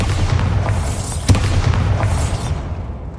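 A Bombarda spell explodes in Hogwarts Legacy, a loud rumbling boom with a sharp crack in the middle and debris crackle, fading out over a few seconds.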